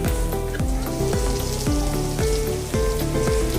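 Chilli chicken frying in a pan with a pinch of sugar and salt makes a steady, dense sizzle like rain. It plays under rhythmic background music with a repeating beat.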